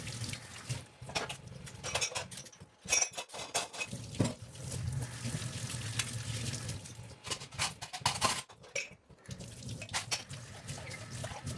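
Dishes washed in a kitchen sink, with running tap water, splashing and occasional clinks of plates and pots, close and uneven, without any talking.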